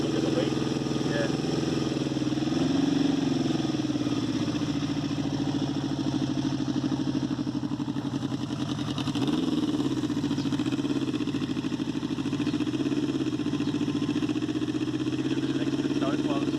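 A 1984 Suzuki GS250FWS motorcycle engine idles steadily while warming up, a close, continuous low rumble with slight wavering in pitch, and talk running over it.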